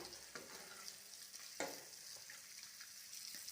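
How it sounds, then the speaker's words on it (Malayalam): Sardines being stirred into a simmering fish curry in a pan give a soft, steady sizzle with faint scraping stir strokes and a small clatter, close and quiet, with no talking. "ഇനി അതിലേക്ക് മത്തി ഇട്ട് കൊടുക്കാം. എന്നിട്ടൊന്ന് ഇളക്കി കൊടുക്കാം."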